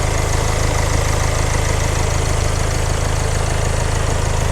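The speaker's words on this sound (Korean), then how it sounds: "엔진 소리 일정합니다" A Land Rover Discovery Sport 2.0 TD4 diesel engine idles close by with a steady, rumbling throb, unchanging in rhythm and loudness throughout.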